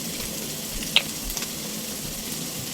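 Sautéed meat for papaitan, a Filipino stew, sizzles and fries steadily in a pan, with a soft hiss throughout and a small clink and stir partway through.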